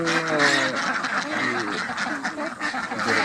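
Ducks quacking on a duck farm of around three hundred birds, a dense, continuous chorus of nearby quacks running throughout, with a person talking over the flock.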